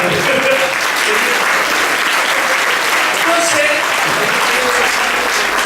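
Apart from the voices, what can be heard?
church congregation applauding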